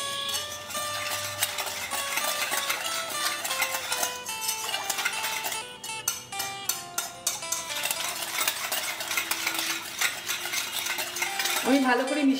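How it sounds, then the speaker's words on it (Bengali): Strawberry ice cream mixture with strawberry flavour powder stirred in a bowl, a steady run of utensil scraping and clinking against the container, close and fairly loud throughout, with music-like tonal background. "এখন আমি এটাকে খুব ভালো করে মিশিয়ে নেব।"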